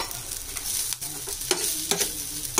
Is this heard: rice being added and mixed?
yes